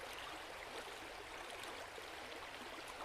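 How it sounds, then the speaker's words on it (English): Calm stream water runs steadily outdoors, a continuous broadband rush and gurgle with no pauses or voices. "running water."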